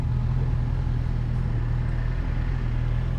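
A 2018 Honda CB1000R Neo Sports Cafe motorcycle ridden in sports mode, its engine a steady, loud, close low drone with constant rumble and wind throughout, no talk.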